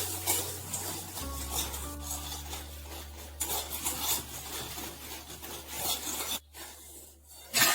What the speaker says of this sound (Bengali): সামান্য পরিমাণে তেল দিয়ে বড়িগুলো হাতের সাহায্যে ভেঙে নিই এভাবে কিন্তু বড়িগুলো ভেঙে ভেজে নিতে হবে